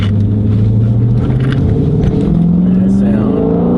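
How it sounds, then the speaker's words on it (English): A Dodge Charger Scat Pack's engine rumbles deeply during a launch-control start and its pitch rises as the revs climb. Someone speaks over it. "I'll try launch control, because I haven't done launch control in this car"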